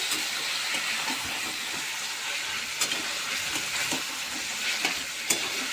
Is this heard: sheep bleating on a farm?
no